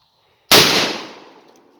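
A Mossberg 500 shotgun fitted with a pistol grip fires a single loud, close blast that rings out and decays over about a second, with silence before it.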